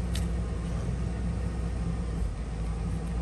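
A Ford F-350 pickup with a 5.4 engine idles roughly in a steady low rumble, the tone wavering slightly as the engine surges and sags.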